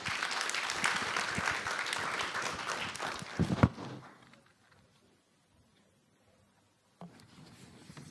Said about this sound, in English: Please give a large applause.